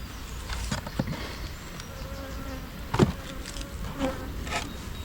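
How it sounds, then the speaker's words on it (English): Honey bees buzz in an open hive during an inspection, a steady near drone with a few louder passes of individual bees close by. "There's some bees in there."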